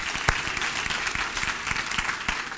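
A church congregation claps in dense, steady applause for a short stretch, with no voices on top.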